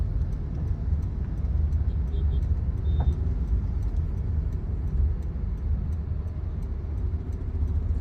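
A Honda City automatic car drives slowly on a Kollam road during driving practice, a steady low cabin rumble with faint periodic ticking like an indicator, even and continuous throughout with no talking.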